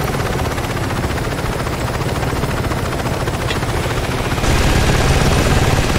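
Enemy helicopter in Saints Row 2, its dense rotor chop loud and continuous throughout, with a rattle like gunfire mixed in and a slight swell in loudness toward the end.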